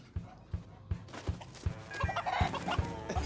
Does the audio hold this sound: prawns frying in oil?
no